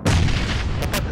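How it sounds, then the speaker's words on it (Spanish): A single close, loud grenade blast in the PUBG battle royale game, a heavy low boom with a rumbling tail that fades over about a second. "Granada."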